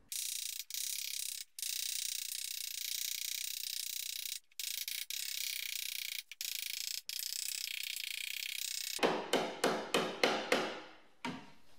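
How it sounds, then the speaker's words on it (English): Steady hissing noise with brief dropouts, followed by a quick run of sharp metallic hammer taps with a dolly on a crash-damaged BMW E30 Touring body panel that fade out. "This is definitely going to take some hammering."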